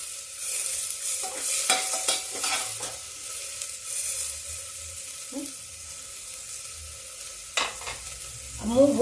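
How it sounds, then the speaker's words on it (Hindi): Moong lentils and onions fry in a pan over low gas heat with a soft continuous sizzle, broken by scattered clinks and scrapes of stirring; no speech. "अब मूंग भून जाने दीजिए,"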